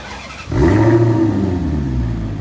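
A Maserati GranTurismo, built on a Ferrari F430 base, fires up at a Christmas car-spotting event in Obernai, Alsace: a quiet moment, then a loud starter catch and a deep, rising engine rumble that settles into a steady, close idle.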